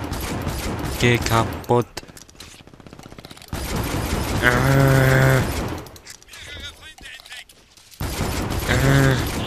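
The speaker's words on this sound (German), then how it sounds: "Hier runter springen, hier runter schießen und den Bot dadurch kaputt machen." Rapid automatic gunfire in the shooter game Brink, bursts of shots mixed with game effects and someone talking over the action.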